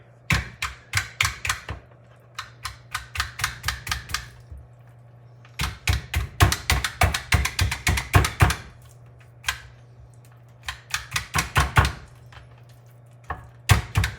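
A Jaccard needle meat tenderizer jabbing repeatedly into pork ossobuco, making close, crisp clacking punches in fast rapid-fire runs separated by short pauses, over a low steady hum, with no talking.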